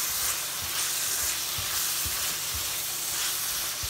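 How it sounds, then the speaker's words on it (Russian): Vegetables fry in a hot pan with a steady, loud sizzle and hiss, broken by soft regular knocks of stirring, close by with no speech. "Так, уже овощи я обжарила"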